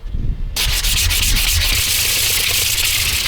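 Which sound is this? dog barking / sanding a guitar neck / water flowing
sanding a guitar neck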